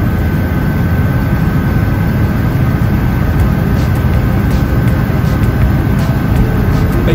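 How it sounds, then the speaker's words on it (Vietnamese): Helicopter flying over Manhattan toward the Hudson River, a steady loud rotor and engine drone that stays constant throughout with no pauses. "trực thăng của chúng ta đi ngược ra phía cửa biển và bay lên trên dòng sông Hudson"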